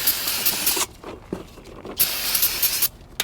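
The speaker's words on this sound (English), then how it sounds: "Take a little brake clean, spray it down." Brake cleaner sprayed onto a new brake rotor of a 2011-2016 Hyundai Elantra, two loud, close aerosol hisses of about a second each separated by a short pause, with faint handling noises between.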